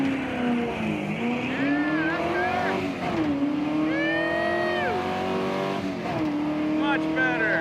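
A budget drag car launches off the line, its engine revving hard and climbing in pitch through repeated surges, loud and close, with people shouting over it.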